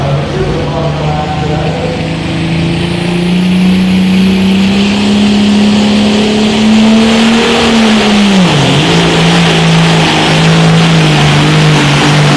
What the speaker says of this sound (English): The tractor pulling competition